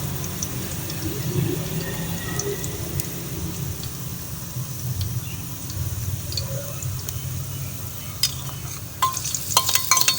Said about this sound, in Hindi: अच्छी तरह भूनेंगे लहसुन को